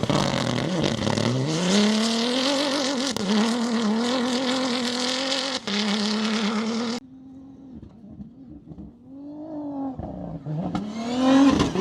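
A Dacia rally car in the Rallye du Maroc screams flat out, its engine note climbing hard and steady for several seconds before cutting away, then rising again more distantly with no voices.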